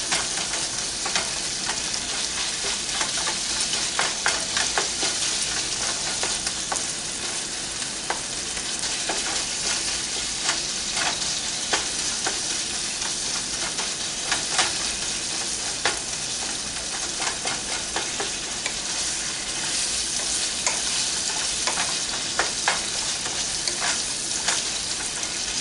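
Ground meat browning in a pan for taco salad, a steady loud sizzle and crackle throughout, with scraping and chopping clicks from a utensil breaking it up, no voices.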